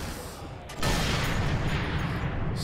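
Dense, continuous gunfire crackles in a Sniper Elite 3 battle, a steady loud fusillade swelling sharply about a third of the way in and holding without pause.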